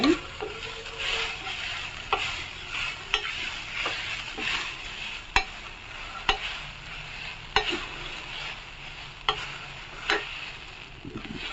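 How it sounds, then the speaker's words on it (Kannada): Coconut chutney is stirred in a pan over a medium gas flame: a soft, steady sizzle with scraping strokes and recurring spoon knocks against the pan, close and fairly quiet. "ಚೆನ್ನಾಗಿ ಮಿಕ್ಸ್ ಮಾಡ್ಕೊಳ್ಳಿ. ಮೀಡಿಯಂ ಫ್ಲೇಮಲ್ಲಿ ಇಡಿ ಗ್ಯಾಸ್."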